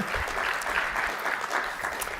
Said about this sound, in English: So can we give a round of applause to Lana, who helped put all this together?